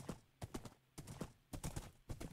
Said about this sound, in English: A fast horse that can jump high.